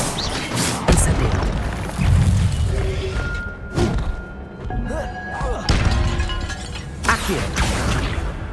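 Spell effects from the Hogwarts Legacy video game, including the Incendio fire spell, burst as repeated booms, thumps and crashes at irregular intervals, with tonal magical whooshes between them.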